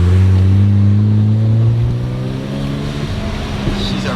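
A rare factory-manual JDM car with a 450 bhp engine revs just before boost, a loud steady low engine drone that eases off as the throttle lifts, heard close up with no talk over it.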